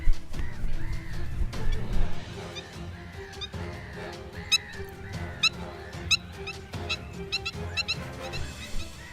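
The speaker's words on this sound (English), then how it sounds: "A yellow-legged gull." Yellow-legged gull calling over Camargue marshland, loud harsh repeated cries in irregular bursts with other bird calls nearby, close and clear without talk.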